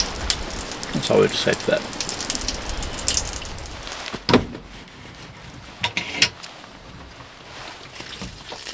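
Steady rain patters on surfaces at a wet Alaska campsite during pack-down, a dense hiss broken by a few sharper knocks and thumps, with brief talk early on.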